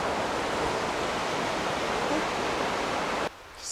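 A river rushes through an autumn forest in Chutes Provincial Park, Canada, giving a steady, loud, full wash of flowing water that continues unbroken for most of the moment before dropping away near the end.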